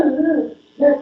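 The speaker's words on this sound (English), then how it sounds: "I don't know what they're barking at." Dogs give two drawn-out, harmonic barks or howls, close and loud, split by a short pause.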